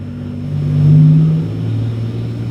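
NASCAR race cars revving outdoors: a steady low engine drone that swells to a louder peak and eases off again, heard indoors from a distance with no talking.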